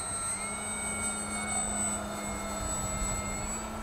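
Radio-controlled Super Cub scale model plane, styled on a real Alaskan bush plane, droning steadily in flight with a constant engine whine held at an even level throughout, fairly distant and windy.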